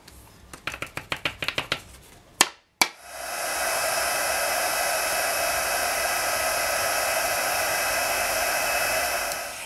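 A heat tool blows steadily to melt white embossing powder on a card, a loud continuous fan-and-air hiss starting after several quick taps and clicks, then running unbroken to the end.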